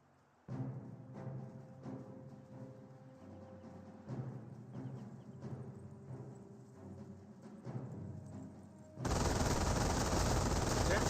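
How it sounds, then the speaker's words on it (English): MG42 machine gun fire in the Company of Heroes video game, with repeated rapid bursts of gunfire over a busy battle background, followed by a sudden loud wash of noise at the end. "MG42 does get a good burst there onto the engineers."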